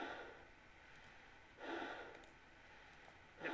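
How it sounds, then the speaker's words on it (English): Heavy, muffled breathing through an EVA space suit helmet in a sci-fi video game, two slow swells of air about two seconds apart over a steady hiss, with no talk. "It plays a super annoying breathing sound."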